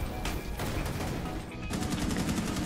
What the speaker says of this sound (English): They all started shooting me.